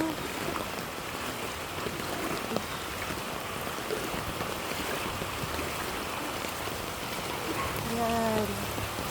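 Steady downpour of heavy rain in a flooded area, an unbroken loud wash of drops and running water, with a short spoken phrase near the end.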